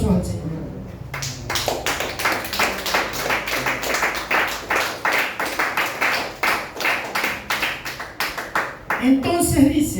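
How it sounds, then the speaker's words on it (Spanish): Congregation claps steadily through a church service, the crowd's hand-claps dense and rhythmic for nearly ten seconds before fading out. "Dale aplausos al Señor"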